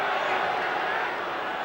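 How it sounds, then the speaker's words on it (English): A rugby league semi-final crowd between Canberra and its opponent sends up a steady, dense roar that holds at an even loudness for the whole stretch, with no distinct voices rising above it. "Roar goes up from the crowd."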